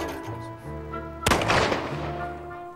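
A single sharp gunshot cracks out at an Edwardian-era country house shooting party on an estate, breaking through a background of sustained musical tones before the ringing blast slowly decays.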